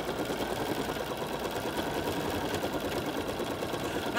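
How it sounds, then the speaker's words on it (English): A BERNINA embroidery machine stitching out a design hums steadily with a fine, even mechanical whir and faint needle ticking, moderately quiet and uninterrupted throughout. "while your machine is stitching out a design, you never stand up and walk away from your machine"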